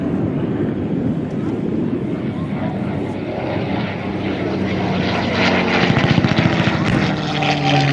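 A P-51 Mustang propeller fighter flies aerobatics at the 2024 First State Airshow, its piston engine a loud, continuous roaring drone that swells and grows harsher toward the end of the pass.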